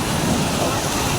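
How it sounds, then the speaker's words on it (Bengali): Sea waves break at Digha Mohona beach in a loud, steady broadband wash, with wind noise over the microphone throughout. "ঢেউগুলো খুব জোরে জোরে ঢেউ আসছে এখানটা"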